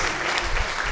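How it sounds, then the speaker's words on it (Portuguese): A congregation at a church service applauds loudly and densely in a brief, continuous burst of clapping. "Você pode aplaudir a Ele."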